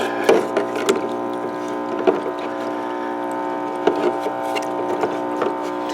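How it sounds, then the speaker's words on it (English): A small submersible aquarium transfer pump runs in water, giving a steady low electric hum with a faint buzz, broken by occasional light splashes and taps. "with that aquarium pump running, I think it's an aquarium pump, I don't know, it's just a little transfer pump, submersible"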